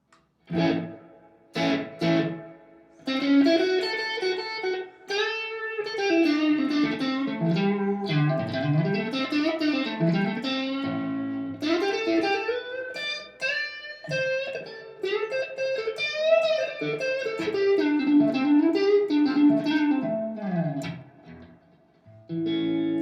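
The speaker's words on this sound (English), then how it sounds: "I use only slapback and a little bit of spring reverb" An electric guitar plays a twangy melodic line with a quick echo and a touch of springy reverb, clean with slight grit, brief pauses between phrases.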